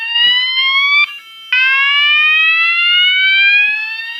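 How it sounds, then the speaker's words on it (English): A fire alarm sounder triggered by an activated call point gives loud electronic tones that sweep upward. A short break splits the first burst from a longer second one. "The French, Roshni on French fire sound."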